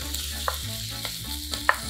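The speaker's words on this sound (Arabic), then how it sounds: "بنزل عليها بالبصلة" Onion sizzling in a mix of butter and oil at the start of a celery cream soup, a steady close fry with a few sharp pops and spatula clicks, no talking.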